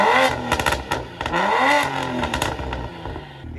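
A single-turbo car engine with a BOOTMOD3 stage 1 tune revs repeatedly, its pitch rising and falling in loud overlapping sweeps with some clattering, close by and without talk.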